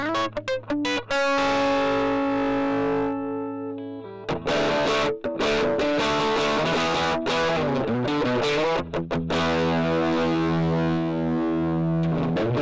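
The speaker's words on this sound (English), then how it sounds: "an overdrive section that's actually voiced like a Marshall 69 Plexi" An electric guitar played through an Analog Alien overdrive pedal voiced like a Marshall Plexi: crunchy sustained chords and riffs with a gritty, distorted tone, alone and fairly loud.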